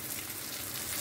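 Bitter gourd fries in a heavy-bottomed pan on high heat, giving a steady, close hiss of sizzling oil with a dense crackle and no pauses or talk.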